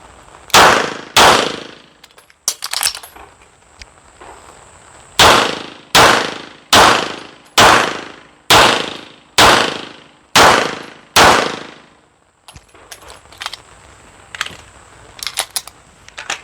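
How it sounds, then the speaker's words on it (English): Pistol fired at targets: two loud shots, a pause with metallic clicks of a reload, then eight sharp shots in an even cadence, each with a ringing decay, followed by lighter clicks and clatter. "So I'm going to shoot 2 shots on the target, then reload, and then shoot the following 8 shots on the targets consecutively after that."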